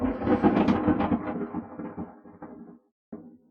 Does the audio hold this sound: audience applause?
no